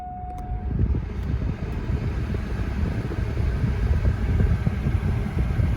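Steady broadband whoosh of an AC blower motor fan in a 2002 GMC Yukon running on max air after repair, a constant even rush with low rumble throughout and no voices.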